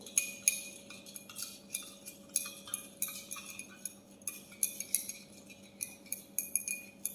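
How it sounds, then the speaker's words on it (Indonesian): Stirring sodium hydroxide into water in a lab glass vessel for saponification: repeated light clinks of a stirring rod against glass, steady and close, over a faint constant hum. "Oke, kita aduk."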